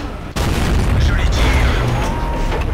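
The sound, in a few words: tank cannon shot in video game World of Tanks, AMX 50 100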